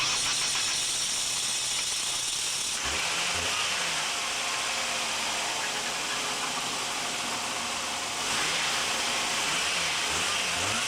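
A car engine starts and runs after a misfire repair, with spark plug wires matched to the distributor; a loud steady hiss of running gives way to a cranking burst near the start and again late on, no talk.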